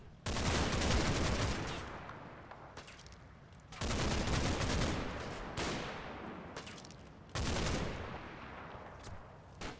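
Bursts of rifle and machine-gun fire crackle through a World War II battle in Combat Mission: Battle for Normandy, three loud volleys at roughly three-second intervals, each fading into scattered shots.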